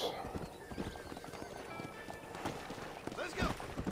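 Horse hooves clip-clop at a run in the Western video game Red Dead Redemption, with a steady rhythmic beat and a brief whinny, heard alongside someone talking.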